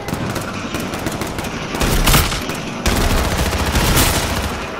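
Rapid bursts of automatic gunfire in H1Z1 squads play, loud and dense, with sharper volleys cracking in around the middle and continuing steadily to the end.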